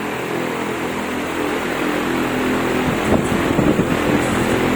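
A Westco industrial 30-inch stand fan running at high speed, a loud, steady broadband whoosh of rushing air with a low hum, close and continuous, with a few faint thumps toward the end.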